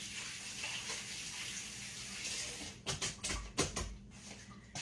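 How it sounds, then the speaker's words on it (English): A kitchen tap runs steadily during cooking while a cook rinses buttermilk off their hands after handling deer back strap. It starts as a smooth rush, then becomes uneven splashing and gushing as the hands move under the stream. "Now let me wash my hands again."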